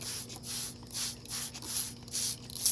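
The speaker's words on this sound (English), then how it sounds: "I'm just spraying it." Water spritzed from a hand spray bottle over freshly planted cucumber seeds, a run of close, soft hissing bursts repeating steadily every half second or so.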